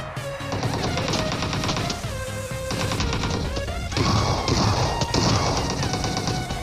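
Gunfire fills a PUBG Mobile duo match, with rapid automatic bursts and overlapping shots from several weapons coming loud and close for the whole stretch.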